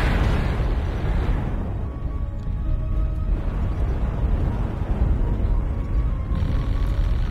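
A heavy rumbling missile blast in MechWarrior Online, a loud low roar that swells at once and churns on continuously for several seconds with a dense, booming texture.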